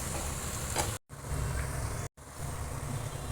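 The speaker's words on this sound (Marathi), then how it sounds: "आता आपण याच्यामध्ये थोडंसं तूप घालणार आहे आणि झाकण ठेवून शिजवून घेणार आहे या भाज्या." Mixed vegetables, cauliflower among them, cook in ghee in a covered pan with a steady, quiet sizzle and low frying crackle, broken by two brief cuts to silence.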